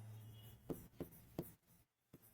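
Chalk or marker writing on a classroom board, several short distinct taps and strokes spaced about a third of a second apart, quiet and close, following a brief bit of speech.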